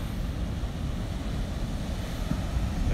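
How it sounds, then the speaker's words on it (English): Ocean waves breaking at Manhattan Beach, a steady broad roar of surf with wind rumble against the microphone, continuous and fairly loud with no talk. "Look at these waves, guys."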